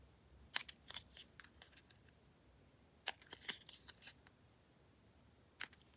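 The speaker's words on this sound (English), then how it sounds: "I'm just going to snip those corners." A few crisp scissor snips trim the corners of a paper cutout for a craft project, coming in short separated bursts of one to three cuts with quiet pauses between, close and faint.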